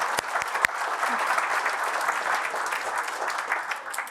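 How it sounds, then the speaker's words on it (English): Audience applause at a citizens assembly in Glasgow, a steady, dense round of clapping from a roomful of people that holds evenly for about four seconds before easing off at the end. "Can we just pause and give each other a round of applause for completing the morning?"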